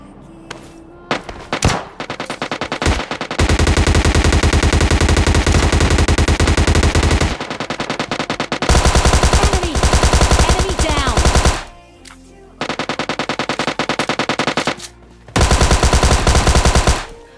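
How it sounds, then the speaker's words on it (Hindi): In PUBG Mobile Lite, machine guns including a Tommy gun let off long sustained bursts of rapid gunfire, loud and close, broken by short pauses between volleys, with a few isolated shots at the start. "मेरे को कुछ ज्यादा ही गन सुनाई देने लगता है, क्योंकि गाइस यहाँ पे दो दो टाइप के बंदे फायर कर रहे होते हैं"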